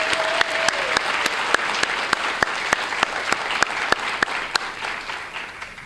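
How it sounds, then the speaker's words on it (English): Applause from an audience honouring a donor at a student awards ceremony, a steady wash of many hands clapping close and loud for several seconds, with sharp louder claps standing out at regular intervals. "Could we please have a warm round of applause for this donor?"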